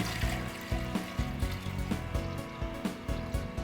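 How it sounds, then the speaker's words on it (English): Water is poured into the seat area of a valve on a workshop valve test bench, a soft, uneven trickling and splashing close by, fairly quiet, with no talk. "And now I'm going to put some water into the seat area."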